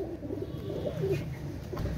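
Jacobin pigeons kept as a pair give a soft, low coo, fairly faint against steady background noise, with a brief murmur around it.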